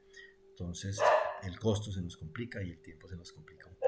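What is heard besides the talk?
dog barking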